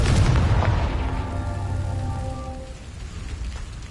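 A Confringo fire spell blasts in Hogwarts Legacy, a heavy booming burst at the start followed by a crackling, rain-like decay with faint ringing tones fading over a few seconds, heard alone.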